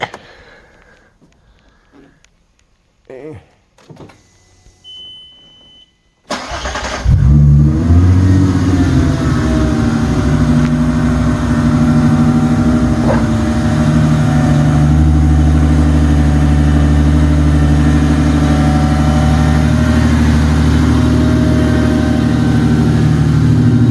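Volkswagen Mk4 with a VR6 engine and aftermarket exhaust starts after faint handling noises, then holds a loud, close, steady rumbling idle with deep snorting exhaust tones and slight rev swells.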